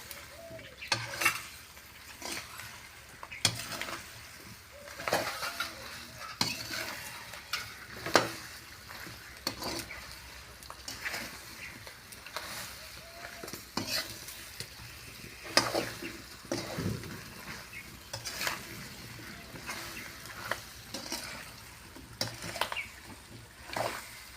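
Green chillies cook in spices in a pan for pickle, with soft sizzling under repeated scraping and stirring strokes of a utensil and occasional clinks against the metal, all fairly quiet.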